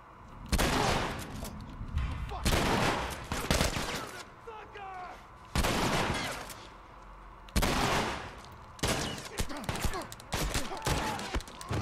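Heavy shotgun blasts in The Last of Us Remastered, several loud booming shots in irregular bursts separated by brief quieter gaps, each with a sharp attack and a rumbling tail.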